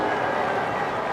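Steady wash of applause and crowd noise at a West Indies Test cricket ground, dense and continuous for a brief moment.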